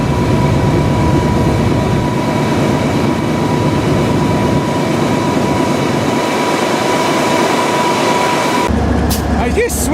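A BNSF freight train rolls out of the yard at Alliance, Nebraska, a loud, steady rumble and grinding roar that runs without a break, with a sharper rattling shift near the end.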